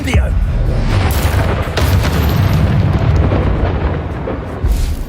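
A fiery Incendio spell blasts out in the Hogwarts Legacy video game, a loud, sustained roaring burst of flame and booming impact that fills the whole span with a brief dip midway and a renewed surge near the end.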